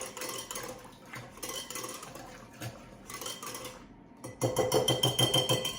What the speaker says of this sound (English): I'm going to go ahead and give that a little whisk